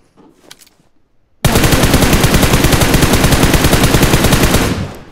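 Sustained machine-gun fire in a battle royale game, a loud, rapid, unbroken burst of shots running about three seconds after a quiet lead-in with faint background noise, then tapering off.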